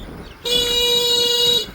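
A battery-powered vehicle's horn blasts once in a single steady, loud honk lasting just over a second, close by, with faint background noise before and after.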